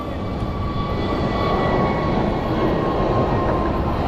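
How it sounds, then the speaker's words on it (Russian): An airliner taking off at a large international airport, heard from the terminal as a loud, steady engine roar that persists throughout. "на взлет пошел"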